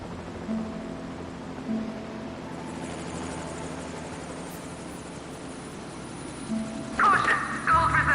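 A helicopter engine hums in the game Evil Genius, a steady mechanical drone with faint tones coming and going and a louder burst of activity near the end.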